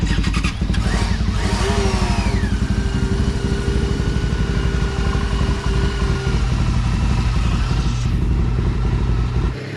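A Yamaha YZ 6R and a Kawasaki DRZ 400 idle close by on a Salt Lake City ride, a loud, steady engine rumble with slight rises in pitch and no voices.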